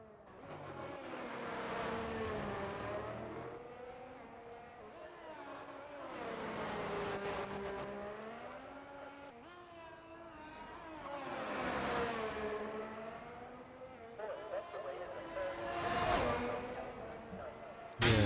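A race car in a no-assist racing video game lap at Marina Bay, Singapore, revs up and down through gears in repeated rising and falling engine sweeps, with commentary talking over it.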